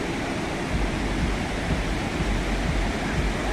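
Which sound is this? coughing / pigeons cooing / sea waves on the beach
sea waves on the beach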